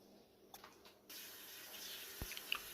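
Water is poured in to defrost frozen mackerel fish, giving a steady, fairly faint rush of running water after a quiet start, with no talking.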